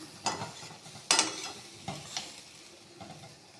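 Cabbage paste pushed to the sides of a frying pan with a utensil, several distinct scraping strokes over a light sizzle, moderately close and spaced irregularly, no voices.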